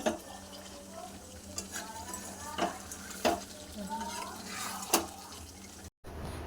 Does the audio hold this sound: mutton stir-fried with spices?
yes